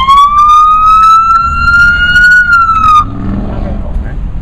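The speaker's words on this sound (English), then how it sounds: "not only do you want the lights, but you will get the siren as well" A loud police car siren holds a steady, slowly rising wail for about three seconds, then cuts off, leaving engine rumble and road noise.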